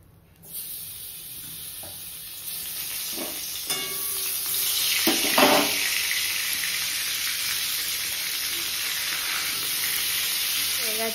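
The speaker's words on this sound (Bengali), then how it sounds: "এবার বেগুনটাকে ভাজা বসিয়ে দেব।" Eggplant set to fry in a pan, a steady bright sizzle that swells after a brief start and holds loudly, with a few clicks and scrapes over it.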